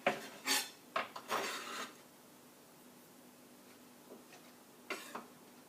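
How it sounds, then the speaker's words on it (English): Knife blade slicing raw carrot and fennel on a board, a quick run of close crisp cuts and scrapes at the start, then a pause and a couple more soft cuts near the end. "I'm just going to slice them up quickly"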